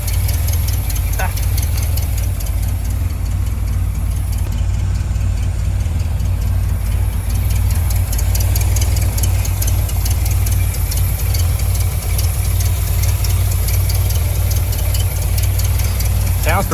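A neglected 1970s Mopar engine runs steadily at idle, a loud continuous low rumble with faint knocking texture, while people talk nearby over it.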